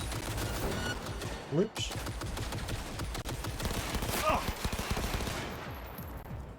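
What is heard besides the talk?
turret gunfire in the video game Cyberpunk 2077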